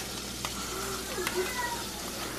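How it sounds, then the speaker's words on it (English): Butter sizzles in a pan for toasting bread for a breakfast sandwich, a moderate crackling hiss with faint clinks and scrapes underneath. "So for that, we'll just throw in a little butter."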